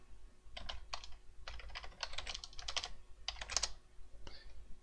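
Bursts of quick clicking keystrokes on a computer keyboard, in irregular clusters with short pauses between, moderately close and fairly quiet against a low background hum, with no voices.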